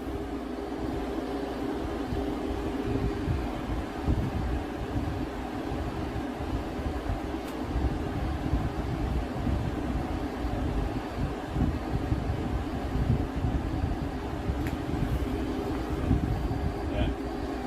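Frigidaire FFRA051WAE 5,000 BTU window-mounted room air conditioner running and blowing cold air, a steady broadband whoosh and low hum that holds evenly throughout, with faint background voices.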